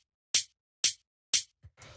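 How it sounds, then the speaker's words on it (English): Three crisp hi-hat hits land evenly on the upbeats of a jazzy house loop, bright and close, then a brief softer rustle of percussion follows. "which starts with this hi-hat, which sounds like this."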